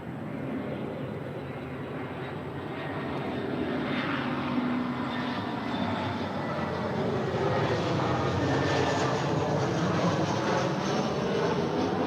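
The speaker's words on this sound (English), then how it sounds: "is Alaska Airlines Flight 350 coming in from Portland, Oregon. It's on an A320." An Alaska Airlines Airbus A320 jet landing at LAX roars steadily for about twelve seconds, a broad continuous engine rumble that swells slightly and holds, heard from a distance with no talking.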